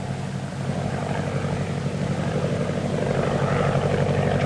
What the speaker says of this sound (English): It's a plane, maybe from 3 Point.